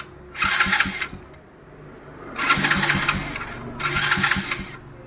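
A repaired electric starter motor, previously failed from burnt carbon brushes, cranks an engine in three bursts with short pauses between, a loud whirring grind each time, no voices.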